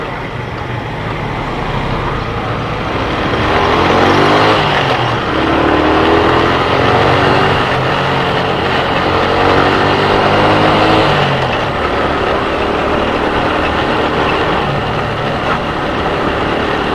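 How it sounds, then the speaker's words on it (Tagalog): A Primera motorcycle engine drones steadily during a ride, heard from a helmet cam, swelling louder in the middle before settling back to an even hum with no talk. "Yun o, ingay ng motor ko."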